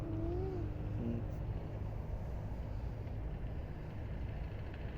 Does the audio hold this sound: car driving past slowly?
yes